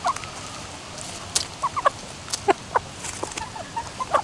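Belgian giant roosters, hens and pullets clucking in a flock, a string of close, sharp clucks and short calls over a soft background murmur, no speech.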